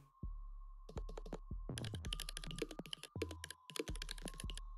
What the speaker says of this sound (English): So if I type, can you hear that sound?